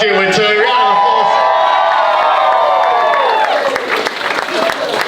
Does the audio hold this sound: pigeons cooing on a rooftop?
no